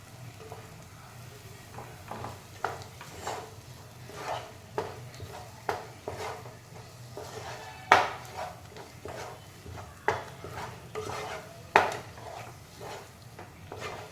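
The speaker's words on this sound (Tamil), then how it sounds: "நல்லா ஸ்டிர் பண்ணிகிட்டே இருக்கணும்" Cashew halwa is stirred steadily in a pan, with a soft ongoing sizzle under a series of scraping strokes, roughly one a second, and some sharper spoon knocks against the metal.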